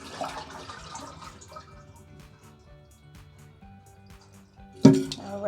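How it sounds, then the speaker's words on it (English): Leftover water drips from a toilet tank, faint repeated drips at close range over quiet background, followed near the end by a sudden louder splash or clunk. "It's the water from the leftover from the tank."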